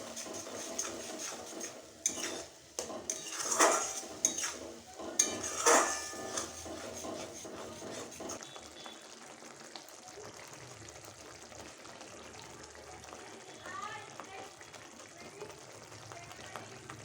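Spice paste for a Bengali katla fish curry with tomato and coriander leaves cooks in oil as a spoon scrapes and clatters against the pan in bursts, then settles into a quieter low sizzle and faint stirring.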